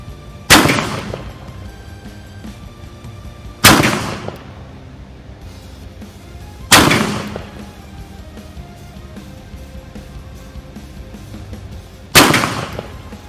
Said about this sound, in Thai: เริ่มยิง